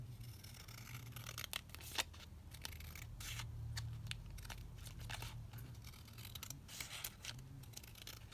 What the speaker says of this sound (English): So I'm just going to trim this down here.